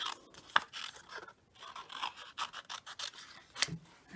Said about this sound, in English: So we're just going to cut off any of this excess.